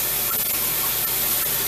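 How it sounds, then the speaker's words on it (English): Water sprays steadily from a tap or hose, rinsing soap and dirt out of a brush, a loud continuous hiss with faint rubbing underneath. "I'm going to rinse this now because that's a lot of dirt"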